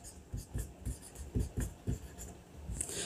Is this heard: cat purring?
no